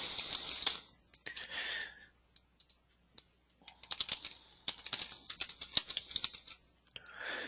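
Someone types a short ID code on a computer keyboard in crisp, close key clicks that come in uneven bursts with short pauses between, without any voice.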